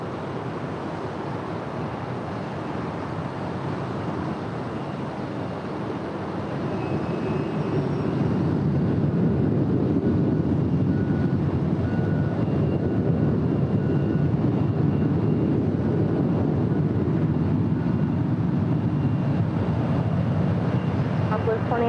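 A Delta Boeing 737-800 departing LAX for Seattle makes a broad jet roar that grows louder partway through and then holds steady. Faint radio chatter sits underneath the engine noise.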